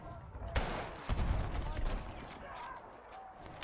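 Suppressing machine gun fire in Battlefield 1 crackles in rapid bursts, with sharp loud cracks near the start and scattered shots continuing under the player's nervous speech at moderate distance.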